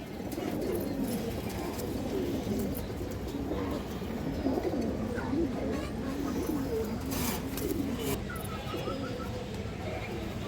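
Pigeons, including high flyers, coo in soft, repeated rolling phrases close by, with a low background hum and faint scattered chirps.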